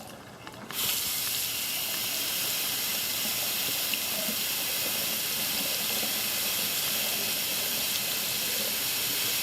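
Water runs steadily from a tap in an upstairs bathroom of a 2000s-era house, the flow still cold while waiting for the hot side to come through, a continuous close hiss that starts abruptly and stays constant without talk.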